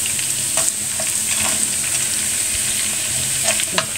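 Kefta meatballs and garlic frying in a pan, a continuous close sizzle with occasional stirring clicks and spatters, no talking.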